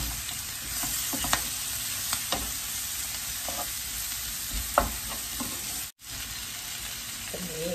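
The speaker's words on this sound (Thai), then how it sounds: "ก็จะเอาหอมลงผัดเข้าไปนะคะ เราจะผัดเข้ากับกุ้งนะเพื่อนนะคะหอมกับพริกนะ" Shrimp stir-fried with onion and chili in a hot pan, a steady loud sizzle broken by a few sharp scrapes and clacks of a utensil, one brief dropout near the end.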